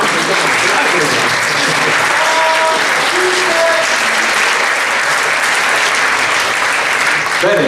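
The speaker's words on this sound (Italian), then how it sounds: "Quindi un bel applauso a queste giovani scrittrici, no?" A large crowd at an awards evening applauds steadily and loudly throughout, a dense continuous patter of clapping with a few voices faintly mixed in.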